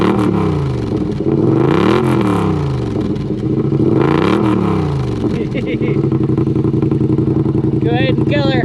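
Yamaha Rmax 1000 UTV with its stock exhaust, loud and close, rising and falling through repeated revs, then settling into a steady idle with a high whine near the end; voices talk over it.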